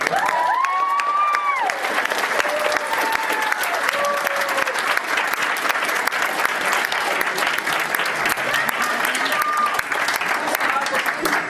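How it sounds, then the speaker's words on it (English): Audience applauding and cheering for a mascot at an auction event, dense sustained clapping with a few voices calling out over it. "Now, round of applause for that man there."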